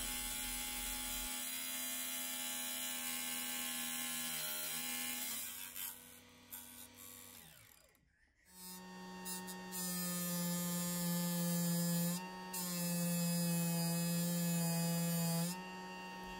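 A power tool grinding down a copper part for a controller analog stick removal tool: steady motor hum and whine that dips and cuts out midway, then resumes loud and sustained with steady tones.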